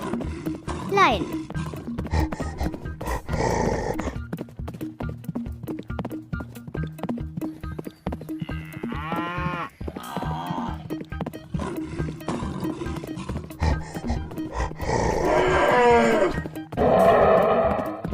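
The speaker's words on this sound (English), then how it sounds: "Lion." Cartoon lion in an animal animation roaring amid a busy mix of other animal calls, hoofbeats and music, with a loud roar rising near the end and a voice speaking over parts of it.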